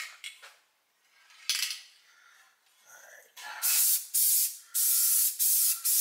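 An aerosol spray paint can hisses in several short bursts onto 1968 GTO front-end parts, quiet at first and then louder, longer sprays near the end, with light handling noises between them.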